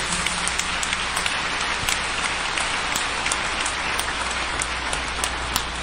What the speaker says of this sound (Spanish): Un aplauso para su eminencia, el Cardenal Leopoldo José.